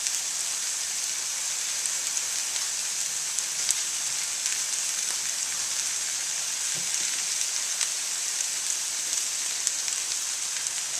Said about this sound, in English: we're letting those mushrooms cook